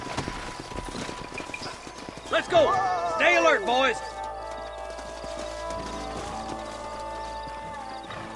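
Horses in a video game shuffle and clop while one neighs briefly in the middle, with someone talking and background music over the scene.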